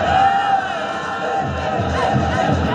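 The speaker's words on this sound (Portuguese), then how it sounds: "E a torcida cantando" Football fans of Flamengo singing together in a stadium, a loud continuous chant from a large crowd with a commentator's voice over it.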